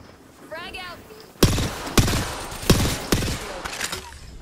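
Gunfire in Apex Legends, with several sharp, loud shots fired in quick succession and a whistling sweep just before them, heard up close in a game with no one talking.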